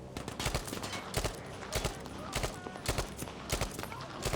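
Rapid bursts of rifle and machine-gun fire in the World War II shooter game Battlefield V, loud repeated volleys close by, with a player talking excitedly over the shooting.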